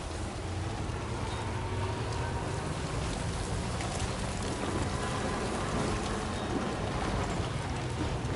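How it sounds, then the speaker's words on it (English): Steady rainfall in the video game Death Stranding 2: On The Beach patters continuously with a dense, hissing wash of drops, even and unbroken throughout. "Why is it raining here too?"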